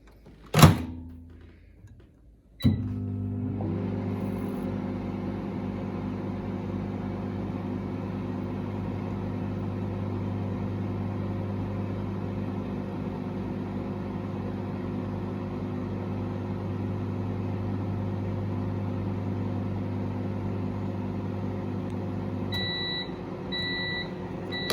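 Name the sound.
microwave oven heating a marshmallow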